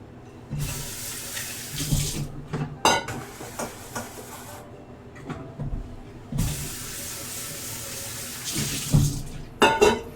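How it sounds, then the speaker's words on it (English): Hot tap water runs into a kitchen pot in bursts, a rushing gush starting and stopping with a few metallic clanks and knocks of the pot against the sink between fills, close and fairly loud. "We're going to start by filling this guy up with some hot water"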